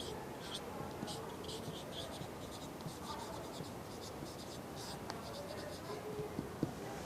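Chalk or pen writing during a science class, quiet rapid scratching strokes in repeated short bursts over a faint, noisy room background.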